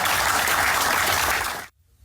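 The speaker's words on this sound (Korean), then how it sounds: "개선 장군을 맞이하듯 후배들의 박수가 쏟아집니다" Younger teammates applaud Ryu Hyun-jin as he arrives at the ballpark in Okinawa. A dense, close burst of clapping lasts under two seconds, then cuts off abruptly.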